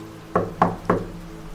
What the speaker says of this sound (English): I reached her door and knocked gently.